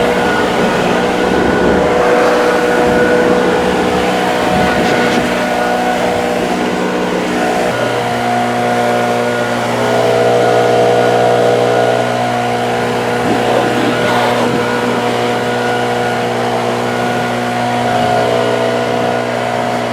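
A tracked wood chipper's engine runs loud and close, a steady heavy mechanical drone with a shift in pitch partway through and brief surges, continuing throughout without pause.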